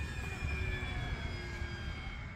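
An E-flite T-28 RC model airplane with a 1.2 m wingspan, running on a 4S battery, flies on a wet day, its electric motor giving a faint, steady whine with a thin high tone under outdoor noise.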